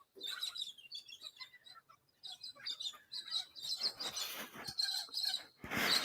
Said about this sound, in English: The birds are awake.